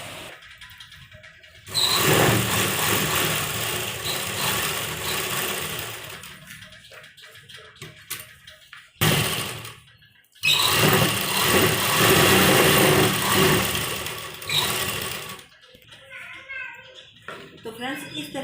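A sewing machine runs in two long, loud continuous bursts while stitching the hem of a baby combination suit, with a short break between runs and someone speaking over and around it.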